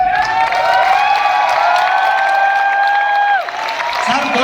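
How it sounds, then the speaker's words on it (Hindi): Applause from the audience at an RCM Diwas program at headquarters in Bhilwara: dense, steady clapping that fills the whole stretch, with a sustained high tone running over it until it cuts off near the end. "तालियां रुकनी नहीं चाहिए सर"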